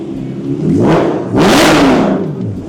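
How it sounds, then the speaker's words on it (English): A naturally aspirated BMW engine revs hard twice in quick succession through a side-exit exhaust on race gas, a loud raspy roar rising and falling, close by with no talking. "a naturally aspirated BMW revving out a side dump exhaust"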